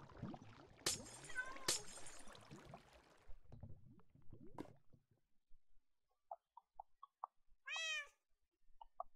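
A cat meows in a Minecraft-style game on a private server, a few short faint calls heard under the player's talk.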